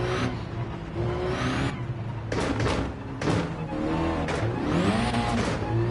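A sim racing game race car on a dirt track: the engine drops through downshifts with rising and falling revs as it brakes and slides, loud and close, with a scrape of loose surface under the tires and no talk.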